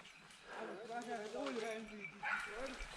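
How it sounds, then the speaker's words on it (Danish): A hunting dog on a driven hunt gives a run of faint, high yelping barks and whines from some distance, rising and falling over a few seconds in a quiet outdoor setting. "Du kan da høre hunden."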